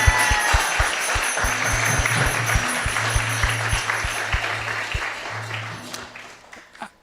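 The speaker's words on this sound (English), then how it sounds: "please give us a big round of applause to Vaisesika Prabhu" Applause from an audience at a Bhagavad Gita discourse at a Hare Krishna temple, a steady dense patter of clapping throughout with faint low musical tones underneath, fading out near the end.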